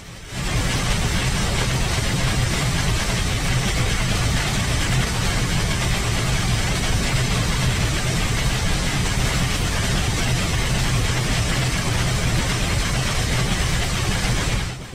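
A locomotive engine on a Sherman track idles with a steady, loud, continuous rumble, holding an even drone throughout with no clear rise in throttle.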